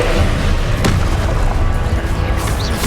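A Confringo fire spell blasts in Hogwarts Legacy, a loud, sharp burst near the start that fades into a rumbling boom within a steady, noisy game soundscape.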